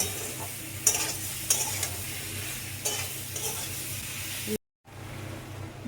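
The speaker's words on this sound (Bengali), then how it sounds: "দিয়ে এটাকে মাশরুমটাকে আমি একটু ভেজে নেব।" Mushrooms fry with salt and Kashmiri chili powder in a pan for a cauliflower mushroom curry, a close, continuous sizzle broken by a few sharp stirring scrapes, then a brief cut to silence before the hiss resumes.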